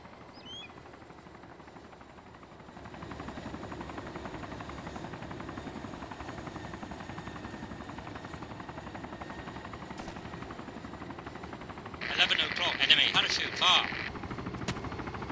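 Military helicopter in the video game Arma 2, a steady rotor drone that starts quietly and grows louder, later joined by a burst of sharp gunfire-like cracks, with voices talking over it.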